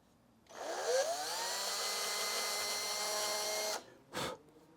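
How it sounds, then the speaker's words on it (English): A power drill spins up drilling 1mm pilot holes in an Epiphone Sheraton guitar and runs steadily for about three seconds, then stops, followed by a brief second burst, close and fairly loud. "These are 1mm pilot holes that I'm drilling."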